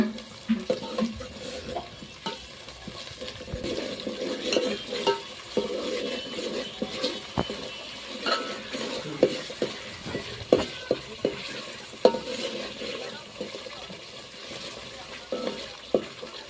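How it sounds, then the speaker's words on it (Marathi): Ground masala paste frying in oil over a wood-fired stove while cooking village-style chicken, an uneven sizzle broken by frequent clatters and scraping of stirring. "आता हे वाटण पण आपण तेलामध्ये एकदम फ्राय करून घ्यायचं आहे."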